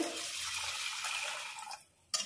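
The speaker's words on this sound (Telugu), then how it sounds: "ఇందులో వాటర్ పోసుకోవాలి." Water pours into a cooker holding rice with a bright splashing rush for about two seconds, stops briefly, then a short final splash follows.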